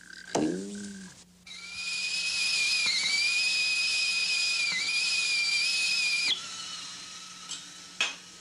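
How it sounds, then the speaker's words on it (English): A whistling tea kettle as the water boils, a shrill sustained steam whistle rising in after a brief clink and holding steadily for several seconds before cutting off. "Have you ever wondered why a whistling tea kettle whistles?"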